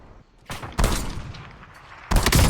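Gunfire in the video game Call of Duty: loud bursts of shots, one burst near the start, a longer sustained volley in the middle and another sharp burst at the end, with no talking.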